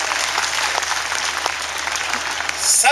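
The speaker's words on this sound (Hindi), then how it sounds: "ताली बजाइए" Audience applause at a motivational parenting talk, a dense, steady wash of many hands clapping at moderate loudness that swells slightly near the end.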